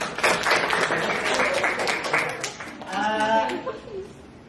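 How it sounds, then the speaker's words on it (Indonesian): Classroom group in an Indonesian teacher-training session claps for a group that answered correctly, a burst of scattered hand claps under a speaking voice, then a drawn-out voiced sound near the end. "tepuk tangan buat kelompok Mei."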